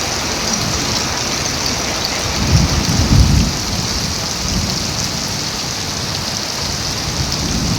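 Steady rain pours down during a storm outdoors, with a low rumble of thunder swelling briefly near the middle before the constant downpour continues alone.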